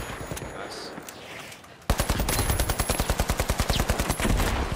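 In the shooter game The Finals, a sniper is firing as a rapid, loud burst of evenly spaced shots breaks out about two seconds in. Quieter scattered shots and game noise come before it.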